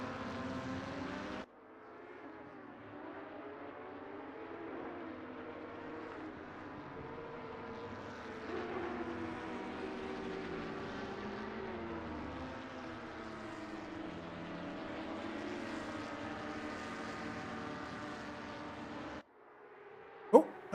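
Several Porsche Cup race car engines in a sim racing game at Paul Ricard drone at low revs, a steady layered rumble with shifting tones that runs for most of the stretch and stops abruptly near the end.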